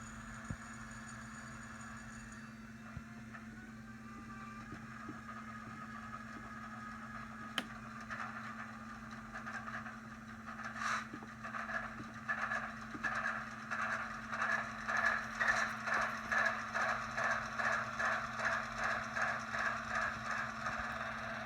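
An MTH ES44AC model locomotive fitted with a LokSound sound decoder starts up: after a steady low hum, a sharp click and cranking lead into a rising, pulsing diesel rumble that settles into a rhythmic idle.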